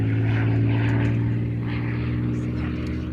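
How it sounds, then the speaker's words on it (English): Propeller drone of a vintage fighter aircraft known as the Russian Spitfire performing at an air festival display, a loud steady engine roar filling the scene with slight swells, heard alone without talk. "It's known as the Russian Spitfire"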